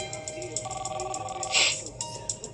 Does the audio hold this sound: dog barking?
no